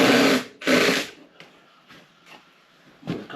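A power drill drives screws into cedar wood in two loud, short bursts, then quieter, lower whirs and a final brief run, close by.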